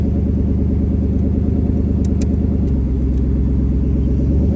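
A twin-turbo Coyote V8 drag car rumbles loudly and close, its deep pulsing idle steady throughout while it tries to move out of ice, with a few brief faint high clicks partway through.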